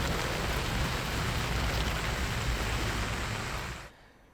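Heavy rain pours down in a dense, steady hiss that cuts off abruptly near the end.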